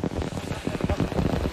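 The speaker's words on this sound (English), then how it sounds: "And the rain definitely begins to drop now from the clouds" Rain falling after a Toyota 500 NASCAR race at Darlington, a dense, steady patter with low rumbling beneath it, loud and continuous, heard briefly without clear speech.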